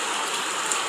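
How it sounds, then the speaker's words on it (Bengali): Heavy rain pours in a dense, steady hiss, close and unbroken for the whole moment with no other sounds over it. "দেখেন বৃষ্টি হচ্ছে, ফুলঝড় বৃষ্টি লেগে গেছে।"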